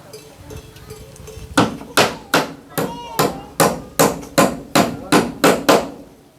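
A hammer drives nails into wood during house building, about a dozen sharp, loud, evenly spaced strikes in a steady rhythm after some quiet rustling.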